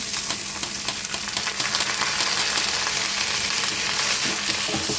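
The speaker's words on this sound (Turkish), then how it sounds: "Güzelce kavuruyorum." Rice and vermicelli sautéing together in a pan for an Aksaray-style tava dish, a steady close sizzle with scattered stirring scrapes throughout, no voices.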